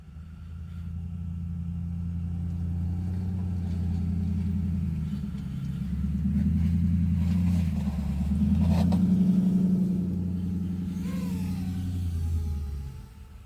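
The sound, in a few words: truck engine starting up and running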